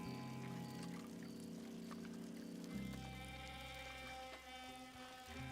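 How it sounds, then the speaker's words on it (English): Moonshine being poured in Red Dead Redemption 2, a steady liquid trickle lasting several seconds over a constant low ambient drone, with no talking. "Pour my moonshine."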